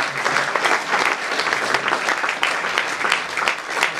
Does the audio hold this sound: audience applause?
yes